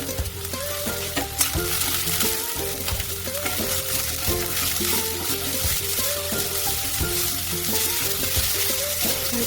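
Green beans sautéed in a pan give a loud, continuous sizzle and crackle, broken by scraping and clanking as they are stirred.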